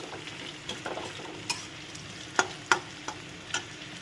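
Black cumin, onion and chilli fry quietly in a wok, a soft low sizzle broken by a few sharp clicks and scrapes of a spatula stirring, close with no talk.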